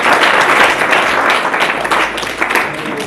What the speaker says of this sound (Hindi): एक बार जोरदार तालियों के साथ आप